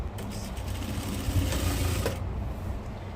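A sewing machine stitches a petticoat with a steady, continuous mechanical whirr that runs through the whole stretch at an even level, with no talking.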